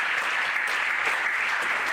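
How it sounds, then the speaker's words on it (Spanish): A church congregation claps in praise during a Spanish-language sermon on Romans, a steady, fairly distant wash of many hands beating together without a break, with no voices over it. "denle palmas al Señor."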